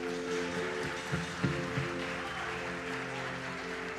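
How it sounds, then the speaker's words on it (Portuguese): Church congregation clapping along during a sermon, a soft, diffuse patter of hands beneath a steady hum, with a couple of slightly sharper claps in the middle. "essas palmas foram boas para mim, mas para Jesus tem que ser mais forte"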